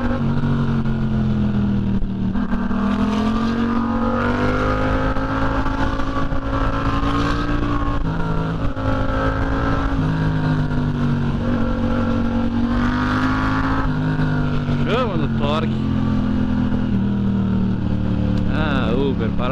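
Yamaha MT-07 motorcycle riding on a street, a constant loud engine drone with gear-linked pitch swells as it accelerates, heard from the rider's position, with someone talking throughout.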